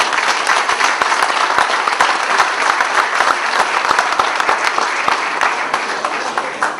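Lively audience applause at a book promotion event, loud and close, with dense overlapping claps and some distinct sharp individual hand claps standing out, continuing steadily without talk.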